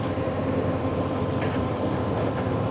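A steady, dense engine rumble fills the whole stretch, loud and continuous with low droning tones, from several cars idling close by in a queue on the road from Siliguri to Mangan, North Sikkim.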